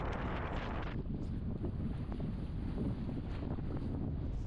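Strong wind buffets the microphone on a beach in Crete in April, a continuous loud roaring rumble with gusty surges and no voices.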